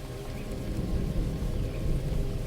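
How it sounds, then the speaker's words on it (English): A low, rolling rumble of distant thunder over steady rain, swelling slightly in waves without any sharp crack. "The thunder remains distant."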